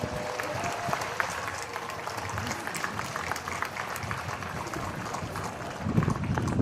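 An audience at Manila's State of the City Address applauds in thanks for President Bongbong Marcos Jr. The clapping is sustained and crowd-wide, swelling louder in the final second.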